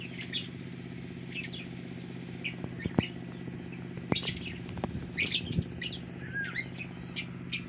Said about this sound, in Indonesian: Itu ada burung juga, burungnya antik.